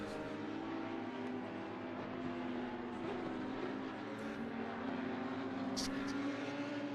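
GT3 race cars lapping Barcelona in a racing video game, a steady engine drone with rising and falling revs heard continuously at moderate level, no voices over it.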